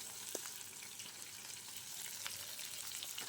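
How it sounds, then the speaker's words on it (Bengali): Chopped onion frying in oil in a wok: a faint but steady, even sizzle with a light tap or two, heard alone and without talk. "পেঁয়াজটাকে আমি সামান্য একটু ভেজে নিব।"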